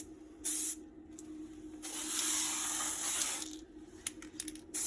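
Spray paint hisses from an aerosol can onto a MK3 Raleigh Chopper bicycle frame outdoors in a few bursts, including one long sustained spray in the middle and several short puffs, close and fairly quiet.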